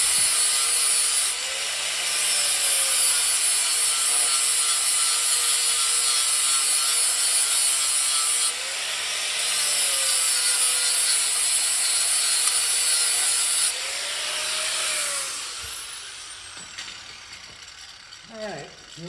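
Steel tube being notched for a buggy build, a loud continuous grinding, rasping cut that runs in long bursts with brief pauses, then winds down to quieter scraping near the end.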